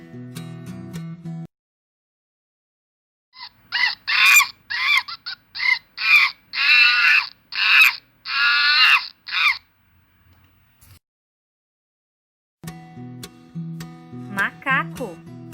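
Monkey calls come as a rapid series of about eight loud, harsh chattering cries in an even rhythm, set between stretches of music at the start and end.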